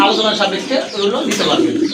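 A female pigeon coos nearby in a brief, throaty burst, mixed with a person talking.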